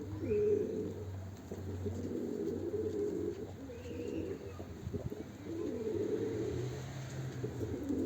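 Soft, continuous pigeon cooing in low rolling phrases, repeating throughout with a faint background hum and no talking.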